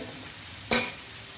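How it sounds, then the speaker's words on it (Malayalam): A paneer curry masala with onions sizzles in a pan over a high flame, a steady soft hiss broken by one brief, louder stirring scrape near the middle. "ഹൈ ഫ്ലെയിമിൽ വെച്ച് തന്നെ നമുക്കൊന്ന് വഴറ്റിയെടുക്കാവുന്നതാണ്."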